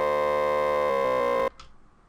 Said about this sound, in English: So the effect I did here is I brought it all the way up to 32, so it sounds like this.